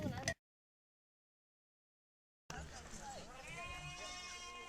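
Goats and sheep bleat in an African village as livestock are led from a groom's house. Several wavering bleats come close and clear after a short cut to silence, with voices talking amid them.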